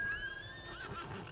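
A horse whinnies in a long, wavering call in the video game Ghost of Tsushima, over a steady low background rumble, clear and fairly close.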